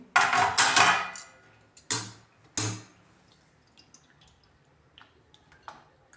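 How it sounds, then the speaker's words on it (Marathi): Water sloshes and splashes as bitter gourds are rinsed in a basin of cold water: a few loud splashy bursts, then quieter drips and soft clinks. "थंड पाण्यामध्ये टाकून कारली धुवून घेऊ"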